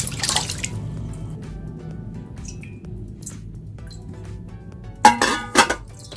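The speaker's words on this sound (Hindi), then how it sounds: "अब इसको मैं थोड़ा सा पानी डाल के इसको धो लूंगी ताकि ये साफ हो जाए।" Water drips and trickles while a small glass container clinks a few times, with sharp, close clinks near the end, as a mashed banana face wash mixture is rinsed out with a little water.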